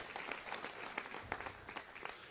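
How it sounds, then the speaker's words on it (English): A seated audience at a city council meeting applauding steadily, heard as a soft, somewhat distant wash of clapping throughout. "Give them a round of applause."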